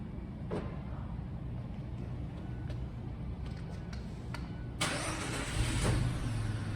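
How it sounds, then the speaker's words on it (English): A 2018 Mazda 3 with a manual transmission starts by remote starter. The engine turns over quietly and then settles into a low idle, heard from close by outdoors after a few faint clicks. "The vehicle remote starts."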